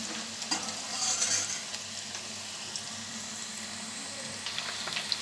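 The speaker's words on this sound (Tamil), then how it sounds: "இது நல்லா கொஞ்சம் பொரிஞ்சு வரட்டும்." Food frying in a pan over medium heat, a steady sizzle with occasional stirring scrapes and light clinks, close and continuous without talk.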